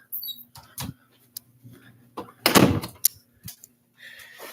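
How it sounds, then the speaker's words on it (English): Indoor doors close one after the other, with a couple of soft knocks and then a louder thud with a latch click, separated by quiet shuffling and small handling noises. "Closing two doors because apparently everybody can hear everything with one door closed."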